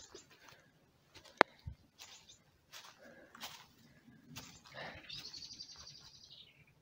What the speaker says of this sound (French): On entend le petit troglodyte.